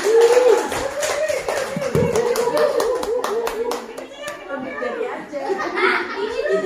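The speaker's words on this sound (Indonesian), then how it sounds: "tepuk tangan buat kita semua" A class of teachers claps together at a workshop, a busy patter of hand claps with children's voices and light laughter mixed in underneath, steady and fairly close throughout.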